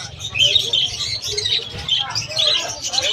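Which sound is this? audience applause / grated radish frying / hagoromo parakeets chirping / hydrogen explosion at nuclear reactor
hagoromo parakeets chirping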